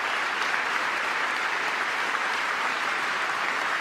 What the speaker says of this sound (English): Yeah, they're clapping.